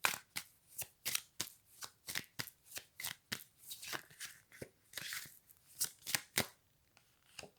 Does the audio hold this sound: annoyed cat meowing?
no